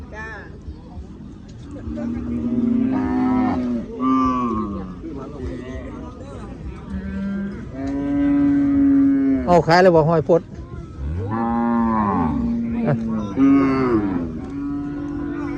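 Cattle and buffalo at a rural livestock market in Kalasin, Thailand, low repeatedly in long, deep moos, several calls overlapping and close by, while people talk and chatter around them.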